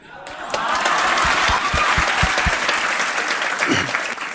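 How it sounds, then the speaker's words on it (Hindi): An audience applauding at an award ceremony for selected BPSC students, loud and steady clapping from a large crowd, close and sustained, with a few nearby claps standing out at the start. "जिस तरह से आप सबके लिए तालियां बजा रहे"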